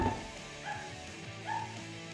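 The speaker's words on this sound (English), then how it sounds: "Puppy's going off out there." A puppy barks outdoors at another dog, giving a few faint, distant yips spaced about a second apart.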